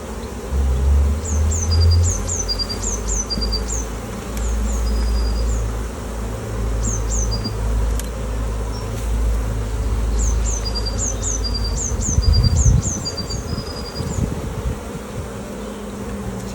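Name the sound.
honey bees buzzing on hive frames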